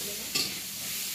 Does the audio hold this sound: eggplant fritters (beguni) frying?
yes